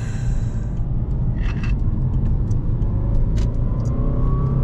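A 2006 Subaru Legacy 2.0 wagon running on LPG pulls uphill in a low gear, its engine a steady loud rumble heard from inside the cabin with light clicks and rattles over it.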